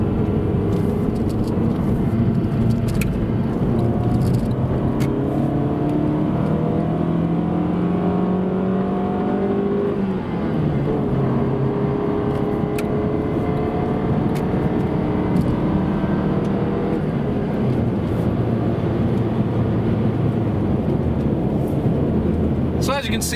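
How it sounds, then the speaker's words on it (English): A 1998 Honda Accord engine revs steadily, its pitch climbing and falling through the gears, with a rattle from something on the driver's side at certain RPMs; the engine drone fills the whole recording continuously. "you can hear that rattling noise at certain RPMs, and it's because of something rattling on the driver's side"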